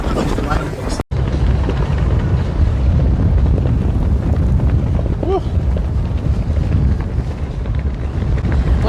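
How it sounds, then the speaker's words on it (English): Strong wind buffets an open microphone outdoors at Gateway Arch National Park, a loud, constant roaring rumble broken only by one brief dropout near the start. "It's very windy."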